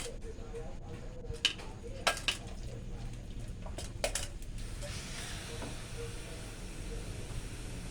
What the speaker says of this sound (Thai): ยายก็จะมาผัดหมูนะ ผัดหมู ยายไม่ใส่น้ำมันนะผัดหมู